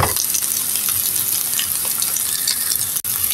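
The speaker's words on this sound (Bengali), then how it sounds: "আমি এভাবে উল্টিয়ে পাল্টিয়ে সুন্দর করে সবগুলি ভেজে নেব।" Eggplant and potato slices fry in a pan with a steady, dense sizzle of hot oil, continuous and close, with a brief gap near the end.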